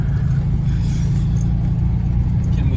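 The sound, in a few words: Puma 1600 GTE car engine while driving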